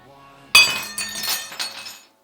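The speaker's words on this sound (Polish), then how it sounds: "od delikatnego stuknięcia nasza szklanka pęknie" A drinking glass cracks sharply when lightly tapped with a tactical pen: a single loud crack followed by brief tinkling, clinking fragments that fade out within about a second and a half.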